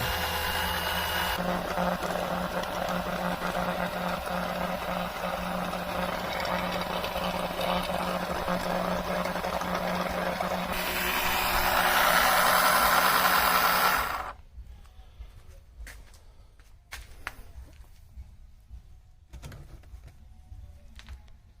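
An engine oil sucking tool's motor runs steadily during an oil change, its drone shifting in pitch partway through before cutting off, followed by quieter scattered clicks and handling noises.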